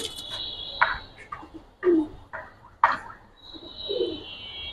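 Giribaz pigeons, red-eyed show birds, coo in a few short, soft bursts spaced apart, alongside other faint chirps and background noise.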